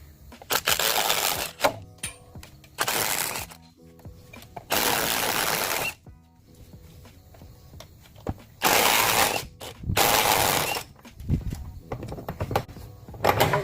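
A socket wrench ratchets on the rear drive shaft bolts of a 2000 Ford F-550 with a 6-speed manual, in several bursts of rapid clicking separated by pauses, close and moderately loud.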